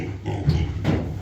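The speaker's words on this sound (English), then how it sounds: "Hey little pigs. I'll get you something to eat." A pair of short, low grunting oinks from pigs close by on a homestead, with no talking.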